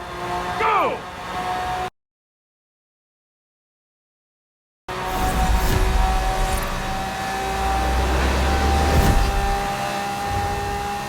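Nissan GTR engine roars steadily while racing in a video game, a broad rumble that cuts out completely for about three seconds, then returns loud and sustained.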